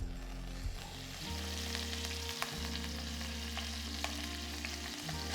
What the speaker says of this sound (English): So I'm going to sear the skin now with a little bit of oil.